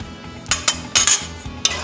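Curry lentils stirred in a pot, a spoon clinking and scraping against the metal in several quick, close knocks over a couple of seconds, with no talking.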